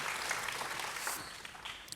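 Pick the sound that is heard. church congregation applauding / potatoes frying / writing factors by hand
church congregation applauding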